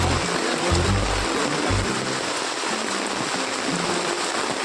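Heavy rain falling steadily outdoors, a dense continuous wash of broadband noise with occasional low thumps and rumbles underneath, loud and close throughout with no talking.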